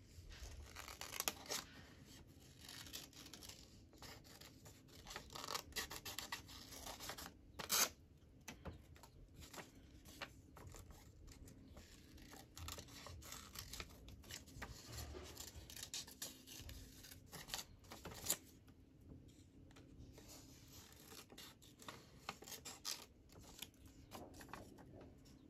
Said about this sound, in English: I can just snip it off if I don't want to keep it.